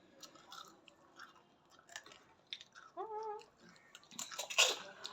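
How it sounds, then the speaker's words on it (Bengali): Someone chews fuchka (pani puri) filled with sour tamarind water, giving wet, squelchy bites and slurps close to the mic in a quiet room, with a louder crunchy burst near the end. "আমি এটা খালি টক জলের ফুচকা খেতেছি"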